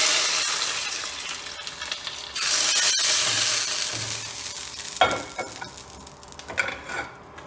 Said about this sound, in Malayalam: ഇത് നമ്മൾ താളിച്ചൊഴിക്കുകയാണ്